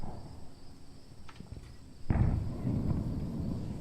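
A gunshot goes off in the VR shooter game Onward during an all-stars match: a single muffled boom about halfway through, followed by a lingering low rumble, rising out of quiet background hum.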